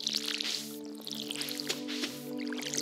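A watering can splashes over crops in Stardew Valley, with soft squishy drips repeating over steady background game music.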